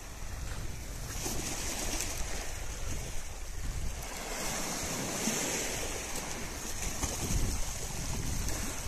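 Waves wash steadily onto a rocky seashore in a continuous broadband roar, with gusting wind buffeting the microphone throughout.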